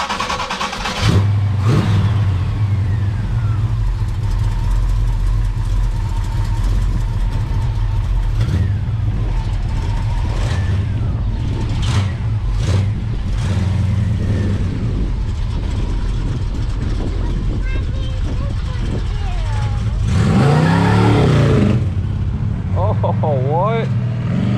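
A Dodge Coronet engine with a carburetor problem idles roughly and revs unevenly in a garage, with a stronger rev near the end. Voices talk over the running engine.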